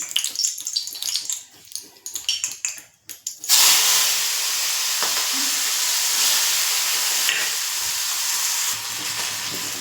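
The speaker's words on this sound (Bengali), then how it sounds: "এই তেলের উপরে আমি চিংড়ি মাছগুলো একটু ভেজে নেব।" Shrimp drop into hot oil and burst into a loud, steady sizzle that carries on close and unbroken for several seconds after some quieter kitchen clatter at the start, with no talking.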